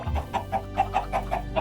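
Minecraft chickens cluck in a short run of quick, evenly spaced calls, close and clear with nothing else around them.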